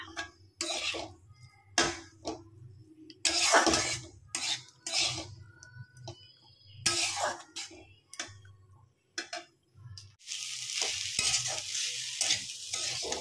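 Pasta reheating in a pan, stirred in bursts of scraping and sizzling with clinks of a utensil against the pan, pausing between strokes before a steady frying hiss takes over at the end.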